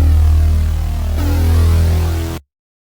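A heavy, sustained bass tone dominates a loud hip-hop beat with high frequencies removed, playing steadily for over two seconds before cutting off abruptly.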